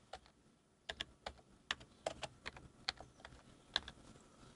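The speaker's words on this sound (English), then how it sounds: "Let me type it in." Fingers tap on a computer keyboard, producing a quiet, uneven string of crisp key clicks with short pauses between them.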